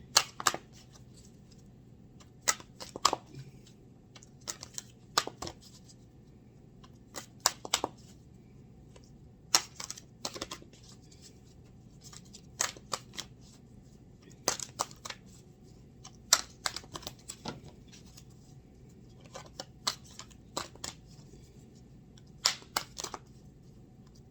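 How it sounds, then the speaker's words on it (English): Tarot cards are shuffled and cut in a quiet room, giving repeated crisp riffling bursts and slaps at an irregular rhythm, close and fairly soft over a low background hum, with no talking. "All right, let me cut and pull, get your cards down here."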